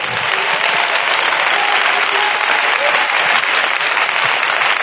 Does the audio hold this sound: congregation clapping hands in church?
yes